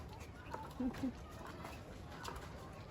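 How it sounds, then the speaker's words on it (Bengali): A pigeon on a rooftop flower garden gives two soft, low coos in quick succession, faint beneath a steady outdoor background hum. "এই যে দেখি একটু কবুতরটির কাজ কাম একটু কবুতরের কাজ কাম"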